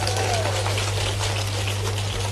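Crowd clapping at an open-air public rally in Badarwas, Kolaras, Madhya Pradesh: dense, continuous applause filling the whole stretch without pause.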